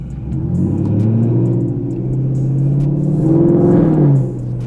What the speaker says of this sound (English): We did a new exhaust yesterday, and it sounds amazing.